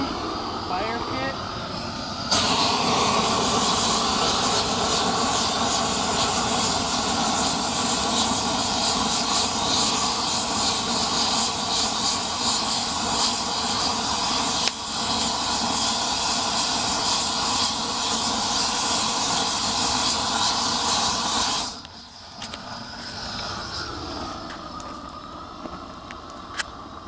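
A gas flame roars continuously from a homemade flamethrower into a fire pit, a loud, steady broadband rush lasting about twenty seconds before cutting off abruptly, leaving quieter background.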